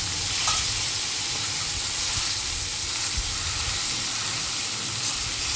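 Gongura leaves sizzle in a hot pan with oil and a little salt, a dense steady hiss with faint stirring scrapes, loud and close.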